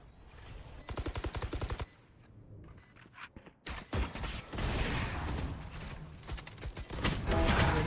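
Automatic gunfire rattles in a competitive shooter video game finale match: a rapid burst, a brief lull with scattered shots, then sustained dense firing and impacts that keep building toward the end.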